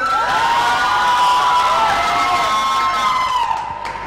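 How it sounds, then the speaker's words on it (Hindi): A studio audience cheers and claps loudly to welcome a panelist on a Hindi sports talk show, with excited shouts and whoops that fade near the end. "स्वागत है आपका, जोरदार तालियां इनके लिए।"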